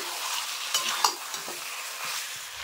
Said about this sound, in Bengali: দেখো এইভাবে আমি ধীরে ধীরে সুন্দরভাবে কষিয়ে নেব